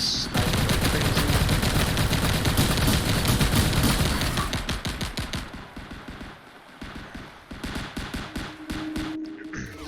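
Sniper fire and other gunfire in a video game level form a loud, dense volley of rapid shots that gradually thins into scattered, separate cracks toward the end.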